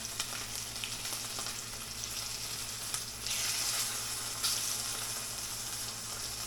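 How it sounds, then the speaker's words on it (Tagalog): Food frying in a pan, a steady close hiss and crackle of sizzling oil that swells louder midway with bursts of spitting, continuous throughout with no talk. "Ngayon na natin yung ating prito."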